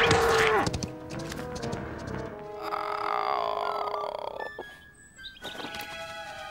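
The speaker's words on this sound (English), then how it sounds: "My, that was the largest cow I ever saw." A loud, drawn-out cow moo bellows at the start, followed by a rumbling roar that fades, then a few brief squeaky tones.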